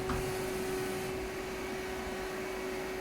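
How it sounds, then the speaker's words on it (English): A 2011 Samsung SL-25B CNC lathe runs its tow-along tailstock in and out, a quiet, steady machine hum with a constant tonal whine and faint servo motion, no talking. "We're going to do the tailstock in and out"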